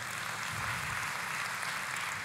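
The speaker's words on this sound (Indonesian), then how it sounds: "Boleh kita kasih tepuk tangan?" A church congregation claps together, a steady wash of applause that stays even and fairly distant throughout the short stretch.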